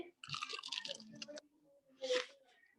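Someone bites into a fried egg roll, giving a crisp, crackling crunch followed by wet chewing, then another burst of crunch, close up and fairly quiet.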